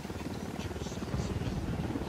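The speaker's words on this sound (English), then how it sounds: "Chopper, hit the dirt." Helicopter in the video game Ghost Recon Wildlands, a close, loud, steady rotor chop with a rapid rhythmic thumping beat that holds throughout, slightly swelling toward the end.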